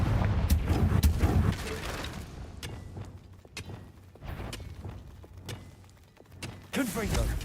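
Booming blasts of the Confringo fire spell in Hogwarts Legacy, a heavy low explosion at the start followed by scattered thumps and impacts, with a player speaking over the game sounds.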